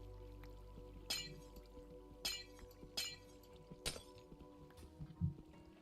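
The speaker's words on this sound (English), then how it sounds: "we're locked in on getting rid of glass" Glass blocks breaking in Minecraft, five sharp crystalline shatters spaced about a second apart over a low steady background hum, with no talking.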